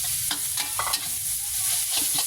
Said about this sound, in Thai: ผัดทุกอย่างให้เข้ากันครับ